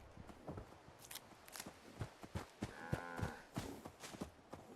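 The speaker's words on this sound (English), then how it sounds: "Excuse me, cow. Cows. If you have two heads, is it considered cows?" Two-headed cows in Fallout 76 make low lowing calls with a rhythm of hoof-like thumps and footstep sounds, fairly close, with no talk over them.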